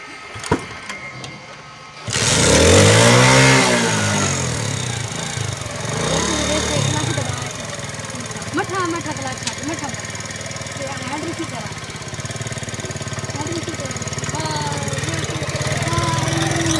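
A motorbike engine runs steadily after being shifted into gear on a first ride, starting abruptly with a loud rising rev then settling into a continuous close drone that fluctuates slightly in pitch.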